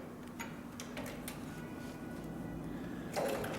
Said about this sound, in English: So I'm going to go ahead and insert this into the machine and we'll start sewing.